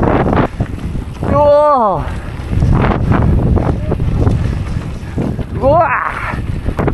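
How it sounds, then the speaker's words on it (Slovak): Strong wind buffets outdoors in a valley, roaring steadily across the microphone while people talk loudly over it and a high whistling or squealing voice rises twice. "Ten vietor je strašný."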